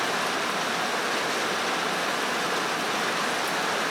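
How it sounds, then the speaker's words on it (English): Rain falls steadily on a metal roof over an outdoor work area, an even broadband hiss of drops drumming on the sheet metal, close and continuous with no breaks. "It's raining and we're under a metal roof."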